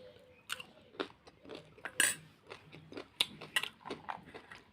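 Boiled chickpeas are chewed close up, with soft irregular bites and mushy chewing sounds at a quiet level, and no talking.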